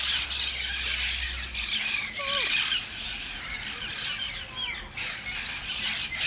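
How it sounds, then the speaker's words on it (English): A flock of parrots feeding on acorns gives harsh, scattered squawks and squeals over a steady outdoor hiss, with calls coming from several directions at moderate distance. "It's a lot of parrots."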